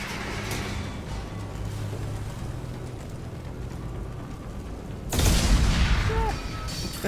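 Mass Effect 2 combat brings dull booms and a crackle of gunfire under a steady rumble, and a sharp, louder burst near the end hits like an explosion, with no voices.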